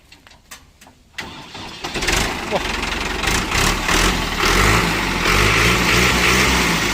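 A New Holland 5630 tractor's 75 hp diesel engine is started: a few faint clicks and brief cranking, then the engine catches and settles into a loud, steady rumble close by.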